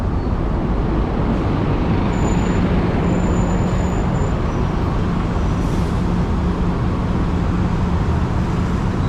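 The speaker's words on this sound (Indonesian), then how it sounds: "Nah, ini busnya." A Rapid KL double-decker bus pulls in amid city traffic in Kuala Lumpur, a loud continuous roar of engines and road noise with a brief high brake squeal partway through.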